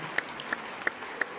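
Concert audience at a 70th jubilee show clapping in a short rhythmic burst, evenly spaced claps about every third of a second standing out from a crowd hum.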